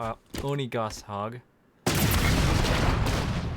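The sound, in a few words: Oni Gauss Hog Warthog Gauss cannon firing in video game Halo 5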